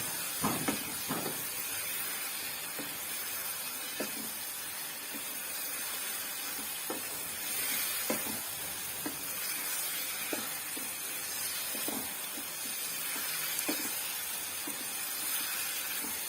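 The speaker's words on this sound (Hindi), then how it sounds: "इन सब सब्जियों को हम अच्छे से इसी के अंदर भूनेंगे।" Vegetables for capsicum salan frying in a pan, a continuous hissing sizzle with occasional soft stirring knocks and scrapes, close and steady.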